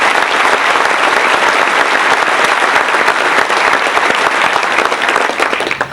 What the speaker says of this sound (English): I think we do owe them a round of applause.